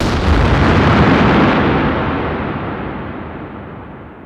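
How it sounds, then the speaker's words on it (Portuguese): A loud explosion sound effect in an audio drama: a single broad, heavy boom that rolls and decays slowly over several seconds. "Do lado de fora, ouviu uma forte explosão."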